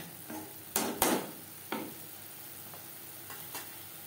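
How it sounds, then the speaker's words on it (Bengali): A spoon scrapes and taps in a pan as ground spices are worked into the masala for a fish egg curry, with a few sharp knocks and a faint sizzle in a quiet kitchen. "মশলার সাথে গুঁড়ো মশলা বেশ ভালো করে মিক্সড করে দেব"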